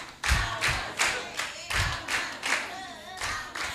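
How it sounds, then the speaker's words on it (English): At a conference, an audience claps in a rhythmic pattern, distinct loud bursts of hand claps repeating in pairs and singles at a steady pace, fairly close. "As you are clapping, you are saying, Amazon, Amazon."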